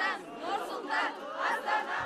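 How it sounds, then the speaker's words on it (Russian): Crowd of hundreds greeting an honored guest with loud cheering and ovation, a dense swell of massed voices shouting together, sustained and close. "сотни людей встречают овациями, цветами и аплодисментами."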